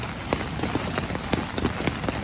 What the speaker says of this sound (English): it starts freaking raining